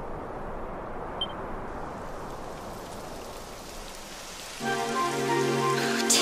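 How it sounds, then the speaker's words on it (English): Steady rain in the video game Dragon Quest XI patters on a surface, soft and even, then a louder layer of rain and a tonal hum join near the end. "It would have to go and start raining, wouldn't it?"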